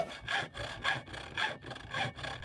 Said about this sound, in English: cutting quarter-inch thick aluminum with a hacksaw is slow